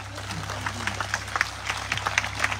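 A church congregation at a Christian worship service claps with scattered, uneven hand strikes that build into a loose round of applause over a low electrical hum, with voices faintly mixed in.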